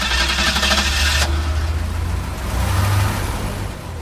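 1979 Ford Granada with a 2.3-litre V6 starts up and revs: a burst of cranking and catching gives way to a rumbling engine that rises and falls in pitch, close and steady with no talk.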